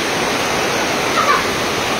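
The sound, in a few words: heavy rain falling on metal roof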